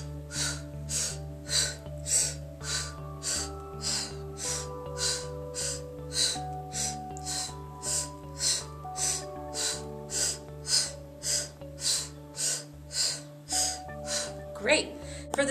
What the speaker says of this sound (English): we're going to do all those breaths through the mouth